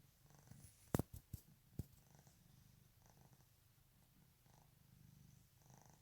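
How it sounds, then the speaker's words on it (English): A cat purrs softly and steadily close by, a low continuous rumble that runs under a few sharp clicks and knocks near the start. "Did y'all hear this cat?"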